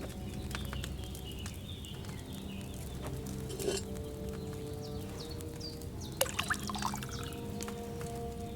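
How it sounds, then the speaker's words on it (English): Wine poured from a pitcher into an alchemy cauldron in Kingdom Come: Deliverance II, a soft trickle and scattered drips under a low room hum, with faint bird calls and a few small clinks. "you have to pour the right base into the cauldron"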